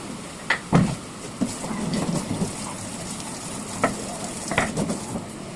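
Cumin seeds fry on a home stove, a soft steady sizzle broken by a few sharp clinks and scrapes of a spatula against the pan, close and moderately loud with no talking.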